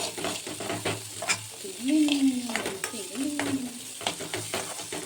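Salted food, apparently instant Maggi noodles, frying in oil while a utensil stirs it, giving soft sizzling with irregular scraping taps and a couple of drawn-out squeaky scrapes in the middle.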